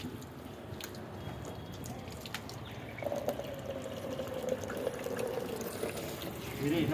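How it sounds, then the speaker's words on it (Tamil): Water pours and splashes steadily while a puppy is bathed, with trickling and dripping at close range and a few voices talking faintly underneath. "தண்ணி போடுறா."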